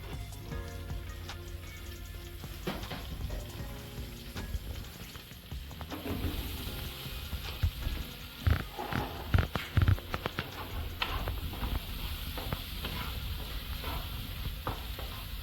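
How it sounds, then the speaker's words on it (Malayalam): Chopped shallots, garlic and green chillies hit hot oil in a pan and sizzle steadily, a loud close frying hiss with stirring clatter and scraping, busier in the middle stretch, no talking. "നമുക്ക് നേരത്തെ ചോപ്പ് ചെയ്ത് വെച്ച ഷാലറ്റ്, ഗാർലിക്, പച്ചമുളക് ഇതൊക്കെ ഇടാം"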